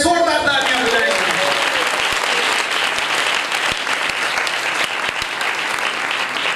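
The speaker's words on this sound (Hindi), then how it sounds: "यीशु मसीह के लिए जोरदार तालियां बजाएंगे।" A church congregation bursts into loud, sustained applause after a brief spoken line at the start, the dense clapping holding steady right to the end.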